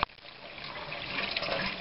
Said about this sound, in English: and I turn some cool water on